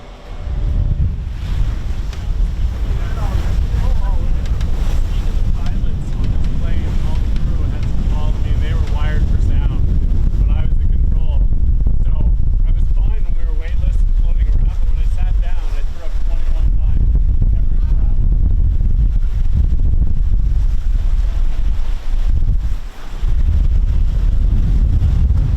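A Bluewater 56 Kevlar offshore yacht under sail, with loud, constant wind buffeting and rushing water and waves around the hull throughout.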